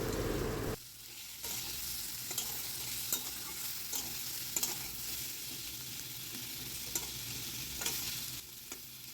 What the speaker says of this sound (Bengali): এবার আবার ভালো করে আরেকটু ভেজে নেওয়া হবে আলু